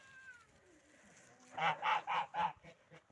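A goose honks four times in quick succession, loud and close, after a stretch of quiet outdoor background.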